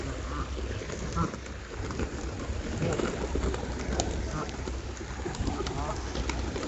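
Pigeons and ducks squabble in a park pond area, cooing and quacking over constant flapping and pecking scuffles, a busy close-up bird chorus with a person's voice occasionally heard.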